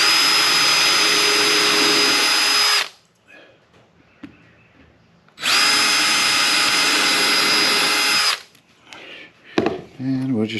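A power drill bores pilot holes into thin birdhouse boards in two long, loud, steady whirring runs separated by a pause filled with quiet handling noise, ending in some clattering.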